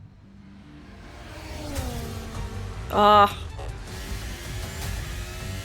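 A 2025 Formula 1 car sitting stationary in the F1 25 racing game, its engine humming with slowly rising tones and a brief sharp burst midway, fairly quiet, while a voice briefly exclaims.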